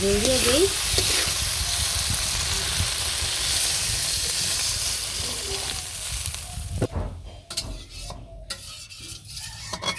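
Spices for a katla fish curry with potato and tomato sautéing in a pan, a loud continuous sizzle and hiss with stirring, thinning later into scrapes and clatter of the utensil against the pan.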